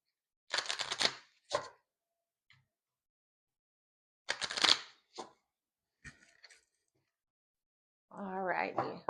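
Tarot cards shuffled by hand in a few quick riffling bursts separated by pauses, close and crisp, followed by a brief spoken voice at the end.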